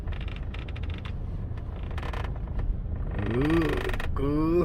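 Panoramic sunroof of a Mercedes E-Class W212 rattling inside the cabin, faint intermittent clicks and creaks over a steady low rumble, then a louder buzzing rattle building toward the end.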